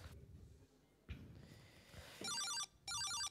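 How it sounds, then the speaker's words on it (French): A school office telephone in a French collège starts ringing near the end in two loud electronic trills, after quieter rustling and handling sounds. "Ce téléphone, il sonne tout le temps."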